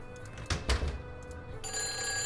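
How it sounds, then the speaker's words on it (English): A telephone rings in the Nancy Drew game Phantom of Venice, a bright electronic bell ringing over quiet background tones, preceded by a couple of soft thumps. "Oh, phone's ringing."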